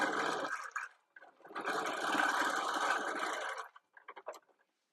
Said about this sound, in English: So now I'm going to quilt up and down on this side.